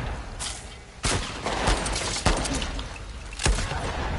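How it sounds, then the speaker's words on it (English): Gunfire in The Last of Us Part II, several loud sharp shots fired at uneven intervals over a constant noisy game background. "I was shooting at the air."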